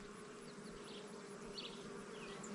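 Honey bees drone around an open hive in a dense, continuous buzz, quiet but steady throughout, with no voices.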